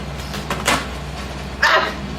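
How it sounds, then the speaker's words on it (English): A dog gives two short barks with a whimpering edge, close by, in a room where friends are eating together. "The dog almost bit me."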